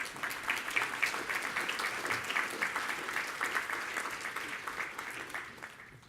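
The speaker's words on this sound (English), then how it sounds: "thanks for the applause for everyone." Steady, full applause from a conference audience at a plenary session of an academic security conference, sustained and fairly even for several seconds before starting to thin toward the end.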